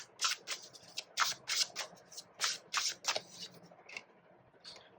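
Tarot cards shuffled and drawn by hand, a rapid series of close crisp riffling bursts that taper into softer slides and flicks.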